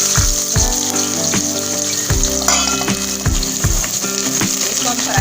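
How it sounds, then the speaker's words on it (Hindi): Two medium chopped onions fry in half a cup of mustard oil in a pot, giving a steady crackling sizzle with repeated clanks of a spoon stirring against the metal, close and fairly loud. "इसको हम फ्राई करेंगे।"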